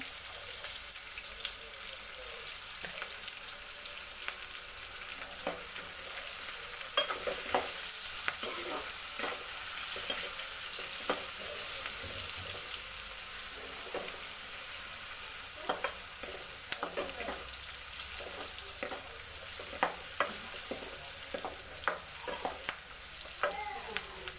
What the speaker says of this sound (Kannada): ಈರುಳ್ಳಿ ಬೇಯುವಾಗ ಅರಿಶಿಣ ಹಾಕ್ಕೊಂಡ್ರೆ ಚೆನ್ನಾಗಿ ಬೇಯುತ್ತೆ ಈರುಳ್ಳಿ ಬೇಗ